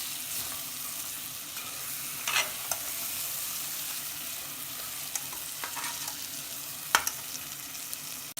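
Tomato masala for chicken biryani cooks in a pan, giving a soft, even sizzle with a few scattered spoon scrapes and taps, close by and fairly quiet.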